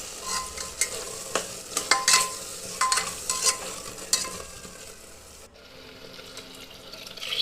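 Ground masala frying in a pan for aloo batani kurma, with a steady sizzle broken by repeated scraping stir strokes and a brief clink, close by and moderately loud, easing off near the end.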